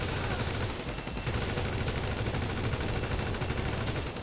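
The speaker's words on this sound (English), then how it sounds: "I was trying to get into position to fire the miniguns." Minigun fire in GTA 5, a continuous rapid roar of shots that runs loud and unbroken for a few seconds, with no talking.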